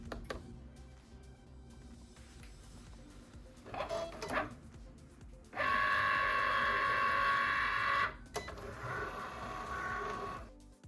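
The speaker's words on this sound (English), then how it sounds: "now we're gonna push the Cricut button to get started" A Cricut cutting machine cutting out a design gives off faint mechanical whirs and clicks, then a loud sustained motor whine for a few seconds, followed by softer running sounds.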